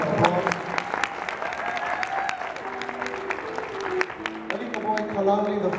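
Audience applause for a guitarist at a live Hawaiian music concert, steady dense clapping throughout with a few louder claps, accompanied by faint sustained instrumental tones and some crowd voices.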